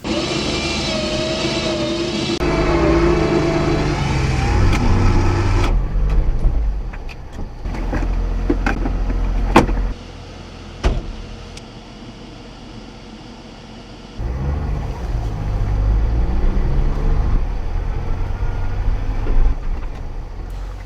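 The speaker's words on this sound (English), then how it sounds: "I have to pull it out with the Jeep now." A Jeep's engine roars as it pulls a stuck minitruck free with help from a winch. The drone is loud and close, drops away for a few seconds midway, then returns at full strength.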